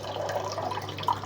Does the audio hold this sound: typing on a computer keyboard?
no